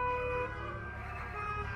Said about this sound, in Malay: Tu, ni semua taxi ni. Diorang horn sepanjang jalan ni.